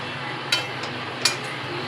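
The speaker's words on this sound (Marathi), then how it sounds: "खोबरं चांगला खरपूस गुलाबी कलर येईपर्यंत भाजून घ्या." Dry coconut roasting in a pan while being stirred: two distinct spatula scrapes against the pan stand out over a steady dry hiss, moderately close.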